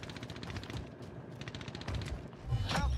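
Rapid bursts of gunfire from a Call of Duty: Warzone match, with an MP5 loadout in play, crackling through the clip and swelling into heavier, louder shots near the end.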